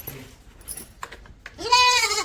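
A goat lets out one loud, wavering bleat near the end, after a few quiet knocks and rustles.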